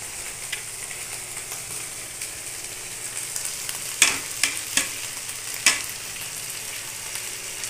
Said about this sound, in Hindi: फिर उसके बाद मैं ना इसमें टमाटर ऐड करूँगी, क्योंकि ये मैं कद्दूकस करके रखी हूँ।